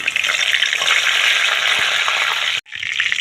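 Bay leaf dropped into hot mustard oil in a pan crackles and sizzles loudly and steadily, cut off by a brief silence near the end before the frying resumes.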